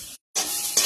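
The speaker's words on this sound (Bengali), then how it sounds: "বাদাম আর মটরটা আমি ভেজে নিলাম।" Peanuts and green peas sizzle and hiss in a hot pan after a brief cut, a steady close frying crackle alone with no talk.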